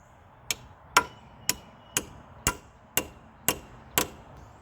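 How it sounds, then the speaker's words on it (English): Eight sharp metallic hammer blows at a steady, roughly half-second rhythm drive a socket onto a chrome extension while repairing a cheap mini excavator, each strike ringing briefly and loud and close, with no talk. "I got a chrome extension I'm going to try to beat the socket on."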